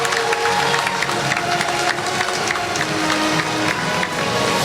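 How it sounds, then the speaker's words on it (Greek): Audience applause and cheering for fighter Eirini Chatziiosifidou at a No Limits fight event, a steady dense roar of clapping and crowd noise that stays loud throughout. "χειροκροτήστε παρακαλώ την Ειρήνη Χατζιοϊσηφίδου"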